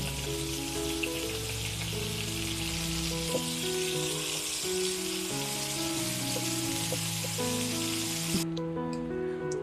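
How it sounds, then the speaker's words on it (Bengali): Steady, loud sizzling of eggplant and pointed gourd slices frying in hot oil, a continuous crackle with occasional faint clinks, no talking. "তো চলো এটাকে ঝটপট করে ভেজে নিই।"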